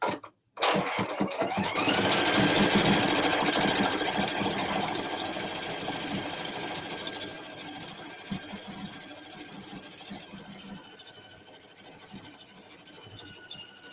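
PFAFF sewing machine stitching, a steady fast mechanical whir with rapid needle clatter running continuously after a brief start, close and fairly loud.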